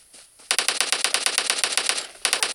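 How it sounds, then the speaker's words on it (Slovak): Rapid automatic gunfire in a video game, PUBG or Call of Duty: a loud burst of evenly spaced shots starting after a brief quiet, pausing, then resuming near the end. "už aj po mne strieľajú"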